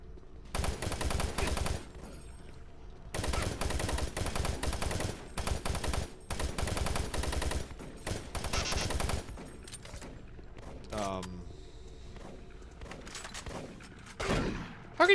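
Rapid automatic gunfire from a weapon in the video game DOOM 3 comes in long, dense bursts separated by short pauses, loud and close, followed by a few scattered game sounds.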